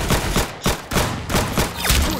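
Rapid bursts of gunfire in the Roblox Arsenal shooting game, loud overlapping shots firing in quick clusters with brief gaps between volleys.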